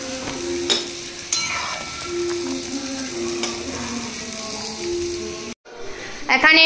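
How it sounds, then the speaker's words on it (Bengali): Cumin, bay leaf and dried chili frying in hot oil for braised meat give a steady close sizzle with stirring, a brief break near the end, then renewed crackle. "এখানে জিরে তেজপাতা শুকনো লঙ্কা দিয়ে দিয়েছি।"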